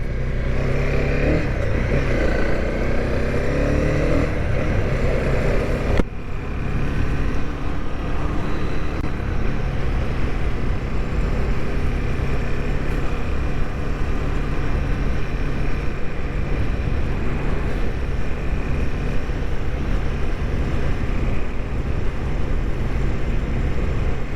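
Steady engine drone of a Honda CB300R motorcycle on a road in Canada, loud and continuous, with rushing wind noise and a brief dropout partway through.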